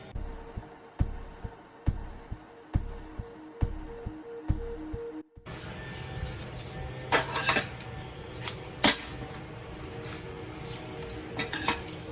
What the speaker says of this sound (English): first I'm gonna chop up my green onions so I can use those for later